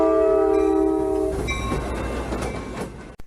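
A Bowser SD40-2 diesel locomotive model with an ESU LokSound decoder sounds a loud sustained multi-chime horn blast, which cuts off into the rumbling diesel engine with faint rail clatter and a sharp click near the end.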